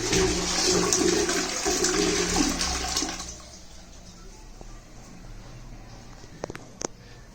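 A western toilet's flush tank empties in a loud rushing gush of water for about three seconds, then fades to a quiet trickle and refill with a few small clicks.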